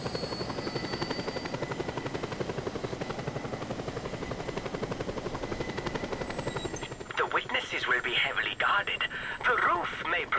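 Helicopter in the video game Just Cause 2, a steady rapid rotor chop droning throughout, joined later by bursts of gunfire and clatter, with people talking over it.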